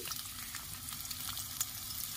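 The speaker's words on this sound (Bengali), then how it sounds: "কড়াই তেল গরম হয়ে গেছে," Onions hit hot oil in a wok for egg chowmein, producing a soft, continuous sizzling crackle with scattered small pops and no talk over it.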